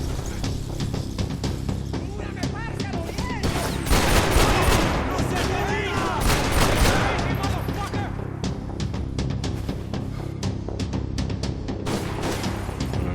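Dense, continuous gunfire in Max Payne 3, a sustained barrage of rapid, close shots with heavier booming bursts midway, under occasional speech.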